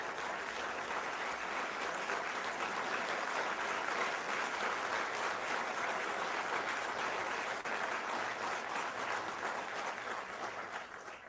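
Sustained crowd applause following a political speech on democracy and voter intimidation, a dense, steady wash of clapping that holds for about ten seconds before starting to thin out at the end.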